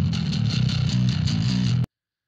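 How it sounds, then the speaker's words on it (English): A dry, clean bass guitar recorded straight from a direct line out plays a short, busy low riff for under two seconds, then cuts off abruptly into silence. "bass audio, which was captured just as a line out straight into the Reaper"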